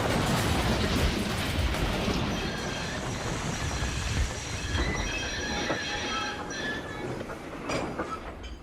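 A freight train hauling heavy trucks brakes hard, its wheels squealing in sustained high-pitched screeches over a loud rumbling, clanking rail noise that continues throughout.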